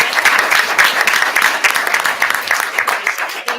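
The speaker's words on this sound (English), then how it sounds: "A real round of applause" Attendees at a school board of education meeting clap in a brief, close, fairly loud burst of applause that wavers and begins to thin toward the end.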